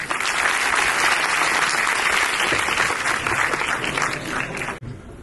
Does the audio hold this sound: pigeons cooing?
no